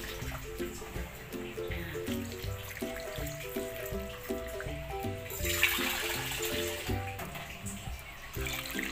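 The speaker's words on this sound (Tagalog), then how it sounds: "Tapos lalagyan natin siya ng siyempre na tubig." Water is poured into a cooking pot holding galunggong fish for pinais, a soft continuous splashing and hiss under steady background music with a short louder surge midway.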